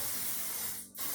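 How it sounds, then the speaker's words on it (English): A steady aerosol hiss from a spray can, continuous and close, with a brief break near the end before resuming. "I'm gonna give it one more spray"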